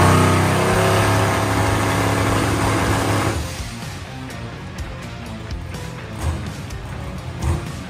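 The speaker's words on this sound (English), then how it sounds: "put it on the trans brake, hear the two-step, build boost" A Chevrolet S10 drag truck sits on the trans brake with the two-step holding, its engine a loud, steady, harsh drone for about three seconds before cutting off, leaving quieter popping and rumbling.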